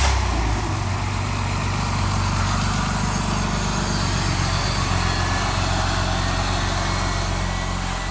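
A BMW engine that had been stalling when hot cranks and runs in a warehouse, a steady loud low rumble with even idle texture throughout, no talking over it.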